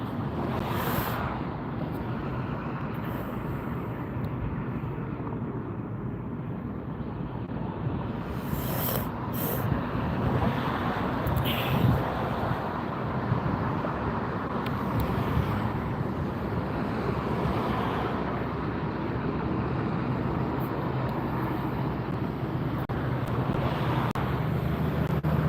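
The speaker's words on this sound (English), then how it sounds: "I think that's the Frontier taxiing in" Steady broadband jet engine roar of a Frontier airliner taxiing at Las Vegas airport, heard from a distance with wind and outdoor ambience throughout, no talk.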